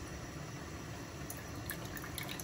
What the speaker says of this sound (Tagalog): Fruit cocktail, drain ko lang yung syrup.